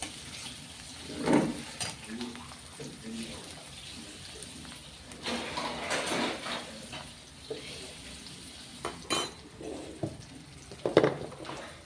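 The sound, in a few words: onions frying in pan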